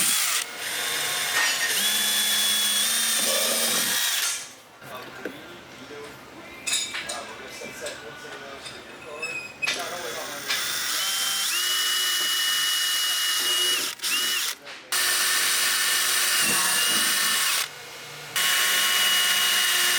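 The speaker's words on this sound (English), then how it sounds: "we can take an electric drill and drill out the holes" An electric drill bores holes for fender liner mounting tabs on a Porsche Cayenne, running in several loud whining bursts separated by pauses, with clinks of handling in between.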